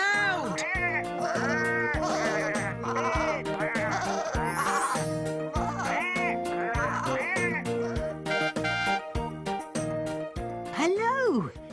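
Several sheep bleat loudly and repeatedly, overlapping one another in a noisy chorus of wavering cries close by.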